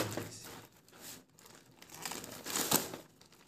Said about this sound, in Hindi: इसको करते हैं हम चाकू की मदद से यहाँ से कट